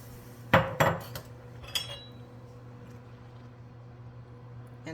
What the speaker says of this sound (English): you're going to stir in 1½ cups of beef broth